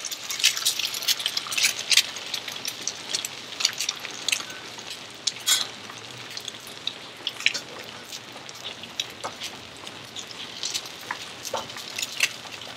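An egg frying in a Matfer Bourgeat carbon steel skillet gives off a steady, crackling sizzle with sharp spits and pops scattered throughout, heard alone and close.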